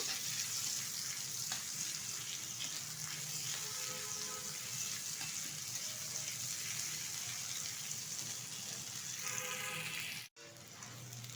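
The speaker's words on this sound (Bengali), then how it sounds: "কুচিয়ে রাখা কিছুটা পেঁয়াজ এটাও আমি সুন্দরভাবে ভেজে নেব" Chopped onions fry in a pan in which potatoes were fried before, a soft, steady sizzle and hiss running throughout, fairly quiet, with a brief break near the end.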